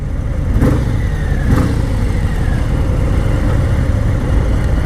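A 2019 Harley Sportglide with the Milwaukee-Eight 107 V-twin engine rumbles loud and close, its deep idle swelling with a couple of quick revs.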